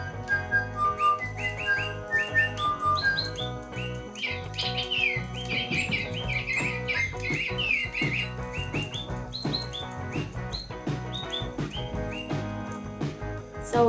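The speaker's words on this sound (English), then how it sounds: "These toys are interesting because they tweet like alive." Electronic toy singing birds tweet and chirp in quick bright trills over a busy, continuous background, with overlapping calls carrying on steadily and fairly loud throughout.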